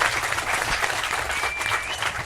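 An audience at a live podcast recording with a film director applauds, producing a full, continuous wash of clapping at close range, with a faint whistle rising briefly near the end.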